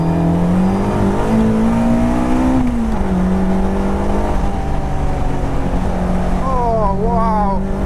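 A Caterham 420R sports car engine revs hard, its pitch climbing and dropping through downshifts, loud and close, with a brief voice on top near the end.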